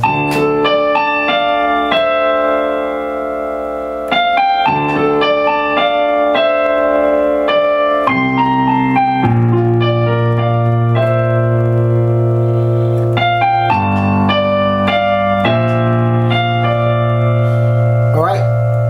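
Piano plays part of a song slowly and clearly, close up, sustained chords and single notes ringing one after another without talk.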